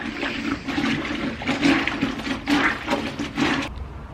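Clothes are washed by hand in water, pushed down, pulled up and twisted, producing repeated sloshing and swishing surges about once a second, close and alone.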